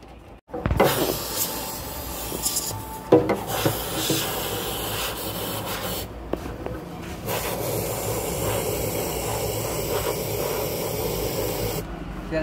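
A motorcycle fuel tank is shaken to loosen rust inside, producing a continuous close rattling, swishing rush with a few sharp knocks and brief pauses as the tank is handled.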